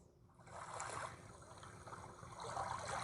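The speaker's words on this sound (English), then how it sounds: "So you got some ocean noises." Soft, washing ocean surf noise swelling and receding, played quietly through the small speaker of a Tribit Bluetooth alarm clock.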